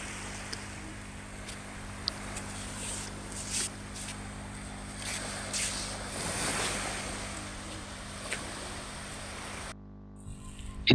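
Surf washing onto an east-facing beach behind a hajj dormitory in Balikpapan, a steady broadband wash with wind buffeting the microphone, no voices, ending in a brief quieter stretch.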